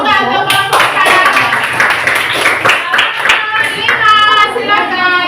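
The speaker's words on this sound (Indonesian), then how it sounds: "tepuk tangan juga untuk kelompok 4." A classroom of students claps steadily for several seconds in dense, lively applause for a presenting group, with children's voices mixed in near the end.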